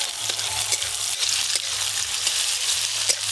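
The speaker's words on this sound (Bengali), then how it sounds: "পেঁয়াজ কুচিগুলো ভালো করে ভাজা ভাজা করে নিয়েছি।" Chopped onions fry in oil with panch phoron and green chillies, a loud, continuous sizzle broken by regular stirring scrapes, close up with no talking.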